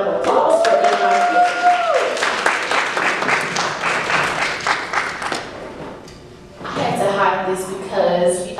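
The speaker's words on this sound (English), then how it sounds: "So give Kiana a big round of applause for everybody." Audience applause at an awards ceremony, a dense wash of clapping that fades partway through, with voices talking and calling out over it.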